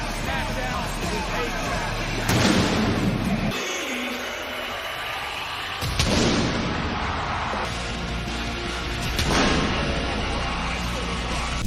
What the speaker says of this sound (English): when you hear that explosion, that's just the concussive pyro going